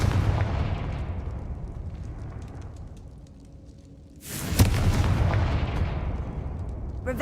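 The Confringo explosive spell goes off in Hogwarts Legacy: a rumbling, low-heavy roar swells and dips, then a sharp blast bursts in with a loud crack and rolls on as a sustained, booming rumble.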